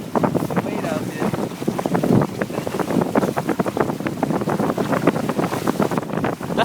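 Wind blowing hard while sailing a sailboat, rushing and buffeting across the microphone with water splashing below, loud and continuous, with people speaking over it.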